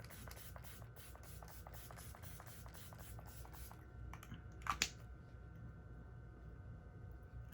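A Wet n Wild Saved by the Bell face setting spray mists once in a quick short burst midway, preceded by a rapid series of faint ticking clicks over low background hum, quiet and close.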